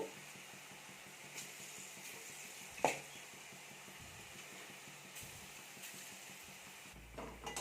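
Vadas fry in a pan of hot oil with a steady sizzle, a few soft clinks and scrapes as they are turned over, close and fairly quiet.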